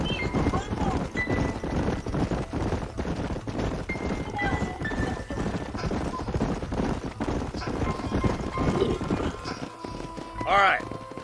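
Horses moving at a walk on an open trail in the Western game Red Dead Redemption, with steady hoof clops under a constant bed of game music and ambience, while a voice talks over it.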